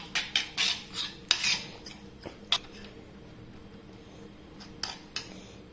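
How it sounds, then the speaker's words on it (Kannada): Spoon clinks and scrapes against a bowl as curd is mixed into soaked rava and rice for instant idli batter, a cluster of sharp taps early on, then a quieter stretch and a few more clinks near the end. "ಇವಾಗ ನಾನು ಇದಕ್ಕೆ ಮೊಸರನ್ನು ಸೇರಿಸ್ಕೊಳ್ತಾ ಇದ್ದೇನೆ. ಸೇರಿಸಿ ಒಮ್ಮೆ ಚೆನ್ನಾಗಿ ಮಿಕ್ಸ್ ಮಾಡುವ."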